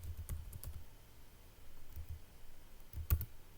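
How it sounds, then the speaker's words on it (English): Someone types on a computer keyboard, producing sparse, close clicks in small clusters with pauses between, quiet against a faint room background. "I can just type hello"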